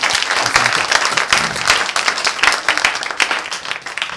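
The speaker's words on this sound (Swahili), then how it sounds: "Ana deserve makofi ingine, si ndio?" Studio audience applause, dense continuous clapping from a room full of people, loud and sustained throughout, with a faint voice beneath.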